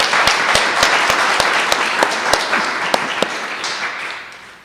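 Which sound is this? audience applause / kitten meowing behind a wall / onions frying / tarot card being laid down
audience applause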